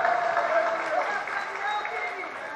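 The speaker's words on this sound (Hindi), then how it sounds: "ये सभी जो तालियां जो बज रही है" An audience at a religious discourse during a festival at Kundalpur claps in a steady wash of applause that slowly fades, heard at a moderate distance with a voice speaking faintly over it.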